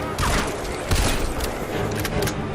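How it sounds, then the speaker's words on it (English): Turret fire in the game Crysis 3: rapid, loud bursts of automatic shots with booming impacts, dense and continuous, with little talk over it. "Oh shit, we've got a turret."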